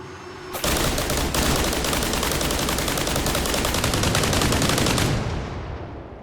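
Rapid, continuous automatic fire from a vehicle-mounted gun in Arma forms a dense, loud stream of shots lasting several seconds before it stops and the sound tails off.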